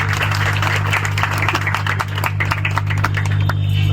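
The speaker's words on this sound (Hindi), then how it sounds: "तालियों से स्वागत करिए सब।" A crowd claps to welcome guests at an Aligarh charity gathering, continuous dense applause with scattered sharper claps over a steady low electrical hum.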